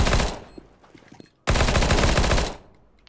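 Gunfire from a competitive shooter video game rattles in two loud sustained bursts of rapid automatic fire, separated by a short gap with a few scattered shots, close and without talk.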